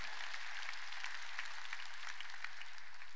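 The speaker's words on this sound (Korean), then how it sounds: "박수로 하나님께 영광 돌리고" A church congregation claps to give glory to God during a sermon, producing quiet, distant, steady applause that stays faint throughout the short stretch.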